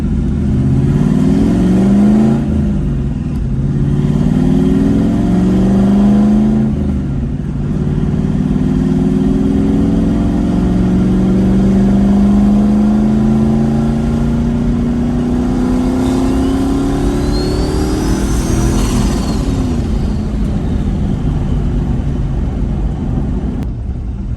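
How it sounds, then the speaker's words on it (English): Turbocharged 5.0 Ford Ranger pulling under load while driving, engine note climbing through long revving sweeps with a rising turbo whistle building boost, loud and close from inside the cab, no talk over it. "That is some freaking boost right there."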